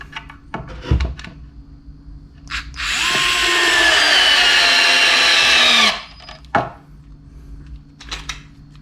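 A WORX WX242 cordless screwdriver at its sixth speed setting drives a screw in one steady, loud, high-pitched whir lasting about three seconds, set between light handling clicks and knocks.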